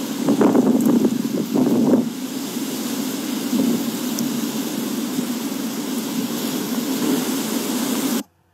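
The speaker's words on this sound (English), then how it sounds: "there's like 50 mile per hour wind gusts" Strong wind gusts of around 50 mph roar across the microphone in a snowy mountain couloir, a loud, continuous rushing buffet with heavier bursts early on, then cutting off abruptly at the end.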